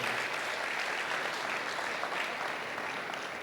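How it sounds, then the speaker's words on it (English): Steady, dense applause from a large crowd at a startup demo day event in Miami, loud and continuous throughout with no voices standing out. "let's give a big round of applause for all the startups"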